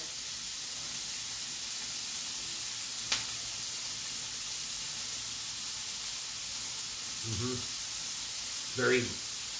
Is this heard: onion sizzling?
yes